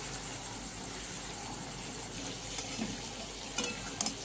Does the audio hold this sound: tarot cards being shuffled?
no